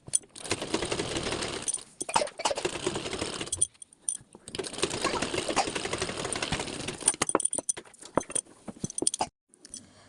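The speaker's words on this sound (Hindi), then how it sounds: "बस आपको 1/2 इंच तक सिलाई चला देनी है नीचे की" A sewing machine stitches blouse fabric in several fast, whirring runs of needle chatter, separated by brief pauses, loud and close with no voices.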